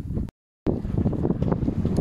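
A sailing kayak moving slowly in light wind: soft wind buffeting and low water swishes against the hull, broken by a brief moment of silence near the start.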